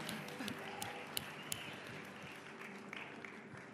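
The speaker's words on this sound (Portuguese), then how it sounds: "Aplauda ao Senhor, porque o Chamis é um homem de Deus" A church congregation applauds for several seconds, fairly soft and somewhat distant, with a few sharper claps standing out and a faint murmur of voices underneath.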